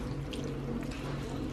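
Milk poured into a dish until the contents are covered to soak: a soft, steady liquid pour, quiet and alone.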